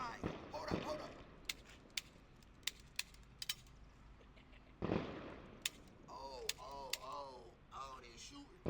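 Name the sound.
gunfire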